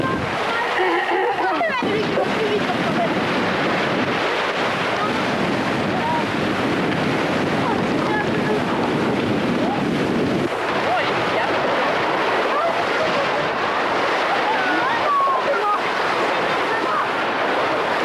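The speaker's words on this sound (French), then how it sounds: "il y a du vent chouette, il y a des vagues" Wind gusts roar across the microphone as waves wash and splash on the water during a school windsurfing session, a loud, unbroken wash of noise.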